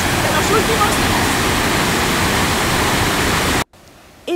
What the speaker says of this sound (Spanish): podemos encontrar esta impresionante cascada que nos han dejado las lluvias de los últimos días